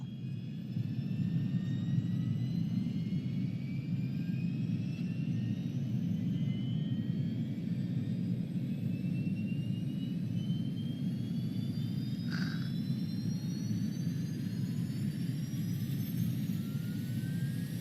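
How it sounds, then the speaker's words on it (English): Airbus A310 jet engines spool up in a flight simulator, a steady broadband roar with a low rumble and rising high whine tones that climb gradually throughout, continuous and loud with no talking. "Now you can hear it spool up."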